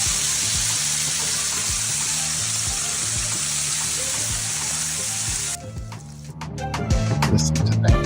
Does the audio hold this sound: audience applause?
no